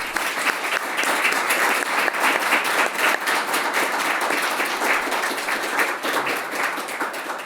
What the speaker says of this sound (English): If I could just ask for a round of applause